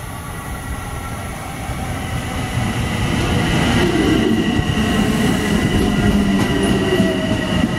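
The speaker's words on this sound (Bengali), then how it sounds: "ট্যাক্সি দিয়ে আমাদের ট্রেন চলে আসতেছে" A Long Island commuter train pulling into New Hyde Park station in New York, a loud rolling rumble that swells as it nears, with rail clatter and faint wheel squeal, heard up close without speech.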